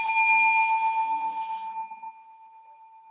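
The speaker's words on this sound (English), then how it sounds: "I'll invite the bell as we slowly return to the room" A meditation bell is struck once, its clear ringing tone sustained and slowly decaying to a faint hum, with soft low murmurs beneath the start.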